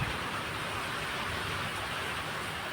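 Light rain falls steadily, a soft, even hiss of drizzle that stays faint and constant with no voices.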